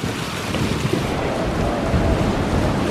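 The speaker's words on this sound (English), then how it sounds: "It's gone cooler and windier still and that water's getting pretty choppy." Gusty wind buffets the microphone on a cliff-top walk at Lloret de Mar, with choppy sea waves washing below in a continuous loud roar and no voices.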